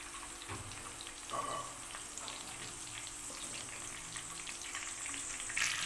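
Ghee melted and heating in a pan for chicken korma, a steady close hiss and soft crackle running throughout without pause.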